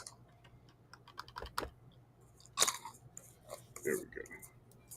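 Crunching of freeze-dried Flying High Sprees candy being chewed close to the mic, a few crisp bursts with faint rustling between them.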